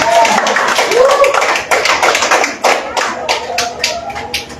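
A church congregation claps, with sharp hand claps growing into a rhythmic burst after a few seconds and voices heard briefly at the start.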